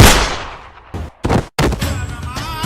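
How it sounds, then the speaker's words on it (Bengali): Several loud gunshot-like bangs from a gun in a comedy skit, an initial sharp blast with a long decaying tail followed by a few abrupt bursts and brief cutoffs, close and loud with no talk. "তাইলে বন্দুক দিয়ে গুলি বের হলো কেন?"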